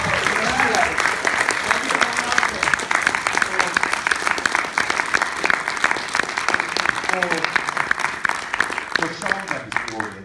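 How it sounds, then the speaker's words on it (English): Audience applause after a sci-fi film Q&A on a festival opening night: dense, steady clapping from a large crowd fills the whole stretch, with voices and a few whoops mixed in underneath. "I think you deserve an enormous round of applause."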